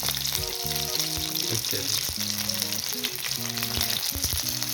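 Fish frying in hot oil gives a loud, dense, continuous sizzle and crackle, close up, while a person talks over it.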